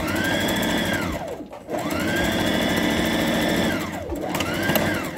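A sewing machine running straight stitches on a bra without an underwire, with close, loud bursts of rapid whirring that speed up and slow down, broken by two brief pauses.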